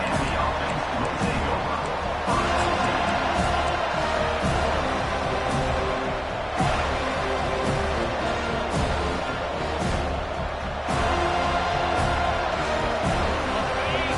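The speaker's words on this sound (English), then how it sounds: "This crowd going to try to make life miserable for these guys." A stadium crowd in the College Football 25 video game keeps up a sustained, loud roar that swells and surges at several points during play.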